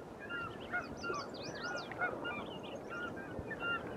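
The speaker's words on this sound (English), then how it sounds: "these ducks are swimming in the water here" Waterfowl honk and call from the water near freighters and mining towns, a quick series of nasal goose-like honks over a steady outdoor background, moderately close and not loud, with no talking.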